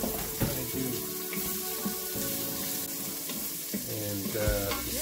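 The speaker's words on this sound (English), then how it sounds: "saute your onions and other things before you do that. So you get that nice flavor." Onions and garlic sauté in an Instant Pot while a wooden spoon stirs them, giving a steady close sizzle with scraping and clatter throughout.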